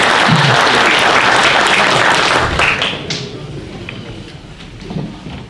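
Loud audience applause at a gusle epic-poetry society's anniversary celebration in Pale, a dense wash of many hands clapping that fades toward the end, with scattered voices underneath.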